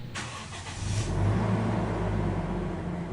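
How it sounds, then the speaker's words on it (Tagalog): Toyota Innova engine cranking briefly with a starter whir, then catching and settling into a steady, close, even idle hum. "umistart itong makina ni customer, very good. So far yung idle niya okay naman."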